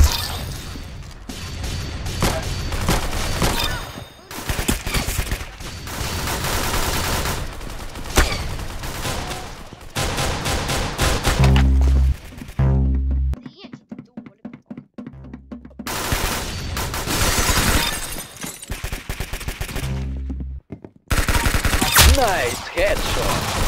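Shooter video game gunfire in loud, sustained bursts of rapid shots with crashes and whooshes, broken by two short silent gaps, while excited voices talk over the action.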